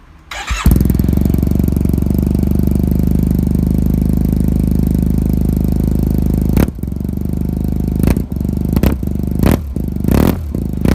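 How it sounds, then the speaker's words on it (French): A cold Yamaha T-Max scooter with a de-baffled Akrapovic exhaust fires up and settles into a loud, steady, throaty idle. Several sharp throttle blips come near the end. "je vous laisse sur le petit bruit du pot à crash"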